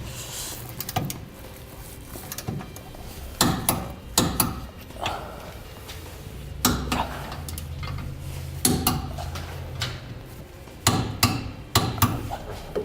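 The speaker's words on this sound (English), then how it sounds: "now we'll torque all of our hardware to the amount specified in the instructions" Bolts on a B and W gooseneck trailer hitch under a 2015 GMC Sierra 3500 are torqued with a wrench, giving irregular metallic clicks and clanks in bursts with pauses between them, with a faint hum underneath.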